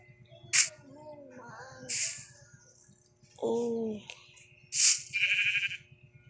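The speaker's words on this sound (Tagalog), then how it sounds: "May tupa." Sheep in a video game bleat several times in short, wavering calls spread across a few seconds, with a steady low hum running underneath.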